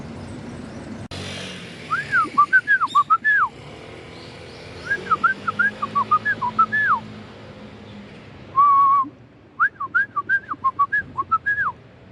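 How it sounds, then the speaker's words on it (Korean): Birdsong rings out as three bursts of loud, clear whistled phrases with short pauses between them, heard alone with no talking. "새소리가 나 좋군요"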